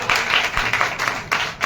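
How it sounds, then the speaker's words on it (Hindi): Brief applause from an audience at a Hindu devotional gathering, a dense patter of hand clapping with no one talking over it. "एक बार जरूर हमारी बहन जी के लिए ताली जोड़ना"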